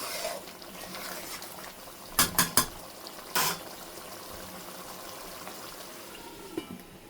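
Mustard hilsa curry frying in a pan makes a low, steady sizzle, broken by a quick burst of three sharp scraping stirs and one more clatter shortly after, all close and without speech.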